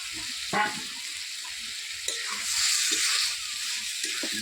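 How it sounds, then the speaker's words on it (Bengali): Boiled potatoes and peas tipped into a pan of hot spiced oil while cooking ghugni, giving a steady close sizzle with a brief thump of the food landing and some stirring scrapes. "আলু মটরের সিদ্ধটা দিয়ে দিলাম"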